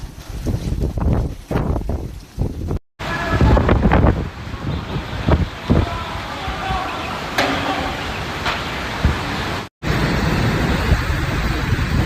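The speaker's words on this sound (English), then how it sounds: "the force of the gusts reached an astonishing level" Strong wind gusts during a violent storm in Shanghai, roaring and buffeting hard against the microphone in surging waves, with brief gaps and rushing noise throughout.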